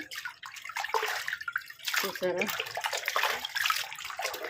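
Water sloshing and splashing steadily as something is washed in rice water, with a voice speaking briefly over it.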